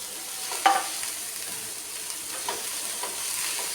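Green chillies, cabbage and softened onion fry in a pan for cabbage mezhukkupuratti. A steady soft sizzle runs throughout, with a few scraping stirs.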